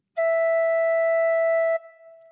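A single tin whistle note with holes one to four covered, blown gently: one steady, pure tone held for about a second and a half, then stopping abruptly with a faint lingering tail. No voices.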